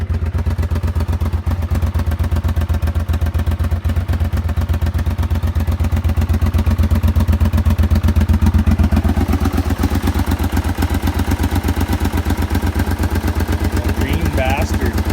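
A quad ATV running on bad gas and smoking a little idles close by with a steady, rapid mechanical clatter. The rhythm stays even throughout, and faint voice-like sounds appear near the end.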